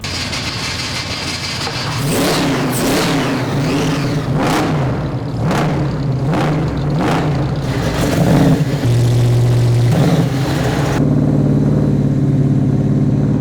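A 1,000-horsepower 540 big-block Chevy hemi V8 car engine roars close by, revving hard in a series of sharp blips before settling into a deep, rumbling idle.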